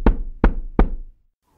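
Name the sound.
knocking on a door, sound effect in a children's story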